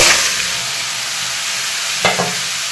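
Food fries steadily in a pan with a loud, continuous sizzle, broken once by a couple of quick stirring scrapes near the end; no voices.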